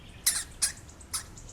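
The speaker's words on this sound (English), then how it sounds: "Hamster." Hamster making three short, high-pitched squeaks spaced about half a second apart, close and fairly clear against a quiet background.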